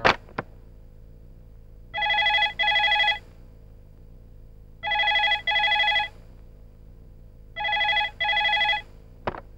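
Telephone bell ringing in a comedy scene: three bursts of paired electronic rings separated by pauses, clear and fairly loud with no talking over them.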